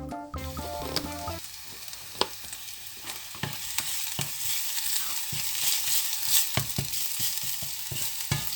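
Garlic sizzling in a little olive oil in a pan, a steady bright hiss with sharp spatula taps and stirring scrapes scattered throughout, close and alone after a brief clatter at the start.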